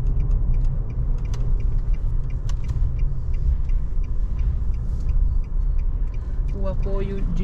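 Nissan Frontier pickup climbing a hill, a steady low engine and road rumble filling the cabin throughout, with faint voices talking over it.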